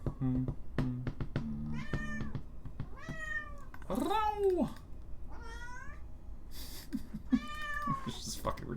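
A domestic cat meows repeatedly, several clear rising-and-falling cries spaced across the clip, close and fairly loud, with faint background noise between calls.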